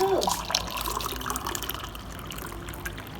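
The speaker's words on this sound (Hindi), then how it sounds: "थोड़ा सा पानी देना है 1 कप में" Slightly lukewarm water poured into a cup, a short liquid trickle and splash at the start followed by light dribbling and handling noises in a home setting.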